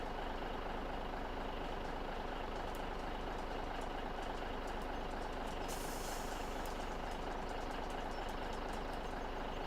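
A truck idles and its trailer unloads in Farming Simulator 17, a steady loud engine drone with a hiss of air and scattered ticking clicks.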